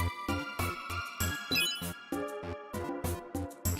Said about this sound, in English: This music is a little annoying with how harsh those electric, like, chimes are.